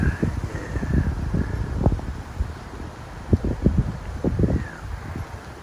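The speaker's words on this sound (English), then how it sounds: "Just out walking on a windy night." Wind blows steadily through trees on a night walk outdoors, a soft continuous rush with scattered low gusts and buffeting bumps against the microphone, faint and close with no talking.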